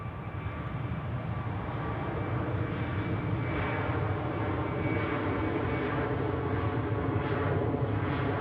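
A jet airliner taxis toward runway 28 at Zurich Airport, its steady engine roar broad and continuous at a fairly close distance, with faint tonal whine threaded through and no voices.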